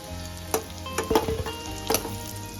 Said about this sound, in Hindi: अब इनको हम दूसरी तरफ से भी फ्राई कर लेंगे